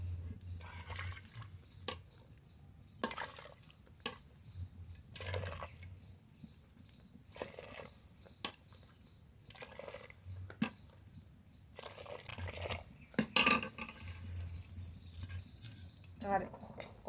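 A metal ladle scoops freshly boiled milk into a pot for soaking saj pitha during winter pitha making, giving faint, scattered clinks and scrapes of utensils against cookware in a quiet kitchen.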